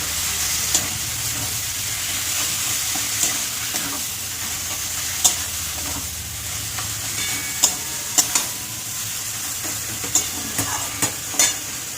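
Boiled elephant foot yam stalks fry in a prawn masala, giving a continuous close sizzle. Scattered sharp clicks and scrapes of a spoon stirring the pan break through it at irregular intervals.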